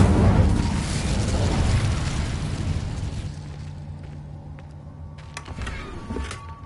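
A fire spell bursts in Hogwarts Legacy with a loud whooshing roar of flame that slowly fades, followed by a few faint clicks and crackles.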